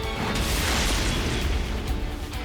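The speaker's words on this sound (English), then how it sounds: "Big explosion." A dense, sustained explosion in the video game Xenoblade Chronicles 3 roars loudly throughout, a continuous rumbling blast with crackling bursts and no voices.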